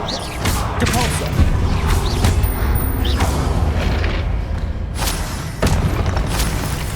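In the Hogwarts Legacy video game, a Depulso spell impact lands with heavy repeated booms and thuds over a dense, loud game soundscape, with several sharp hits throughout.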